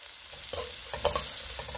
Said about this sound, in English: Stir fry from the wok, and we have some onion and oil.